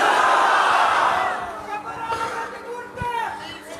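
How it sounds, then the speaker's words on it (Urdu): A crowd at a religious gathering shouts in unison, a loud massed chant that fades after a second or so into scattered voices and murmuring chatter. "چھوڑیے یار، چھوڑیے نعرے چھوڑیے"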